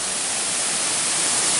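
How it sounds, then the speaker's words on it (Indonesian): The Curug Muara Jaya waterfall in Majalengka gives a dense, steady rush of falling water, broad and unbroken at close range. "Sekarang Kang Basir ada di depan air terjun Muara Jaya"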